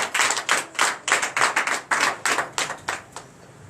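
A church congregation at a Sunday service claps in acclamation, about a dozen sharp, rhythmic claps in a steady beat that fade slightly at the close, with no talking over them.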